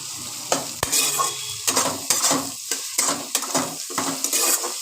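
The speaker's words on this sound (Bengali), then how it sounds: "এবার এগুলো দিয়ে আবার একটুখানি নাড়াচাড়া করে নিই" Grated ginger and garlic are stirred in a pan, with sharp, irregular scrapes and clinks of a spatula against metal over a soft sizzle, close and fairly loud.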